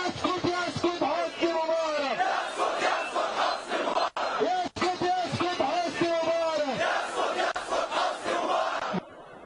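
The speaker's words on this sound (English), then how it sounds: "the protesters are also chanting other slogans against the Mubarack regime in Cairo's Tahrir Square" A large protest crowd in Cairo's Tahrir Square chants slogans against the Mubarak regime, loud rhythmic massed voices repeating a cadenced call over and over, dense and continuous.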